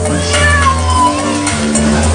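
Cats at a spay-neuter clinic for homeless, stray and feral cats, giving loud, close, drawn-out meows over steady low background hum.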